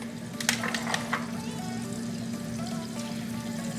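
Diced onions hit a hot pan on a home stove and sizzle at once, with a few sharp splatters early on, then a steady crackling fry heard up close, no talk.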